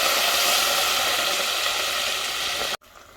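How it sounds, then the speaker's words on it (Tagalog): Coconut milk goes into a hot pan of shrimp and squash for ginataang hipon, a loud, steady broadband hiss and sizzle that cuts off abruptly, leaving a quieter hush. "Ilalagay natin yung gata."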